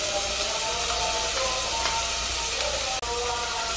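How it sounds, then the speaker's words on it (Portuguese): Grated calabresa sausage and bacon fry together in a pan, a dense, continuous hissing sizzle that stays loud and close throughout, with only a momentary dip near the end. "eu gosto de fritar pra colocar na carne moída que eu vou fazer o macarrão. Fica uma delícia, vou fritar os dois juntos mesmo"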